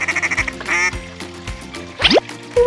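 A cartoon duck quacks repeatedly over bright, bouncy background music in a children's counting puzzle game, with a rapid run of short quacks, a drawn-out squawk, and a quick sliding whistle near the end.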